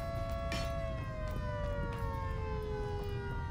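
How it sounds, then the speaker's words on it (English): An air raid siren wails in the Volcanoids video game, a loud sustained tone with layered harmonics that slides slowly downward, carrying alone over a low rumbling background for the whole stretch. "We got the air raid siren going."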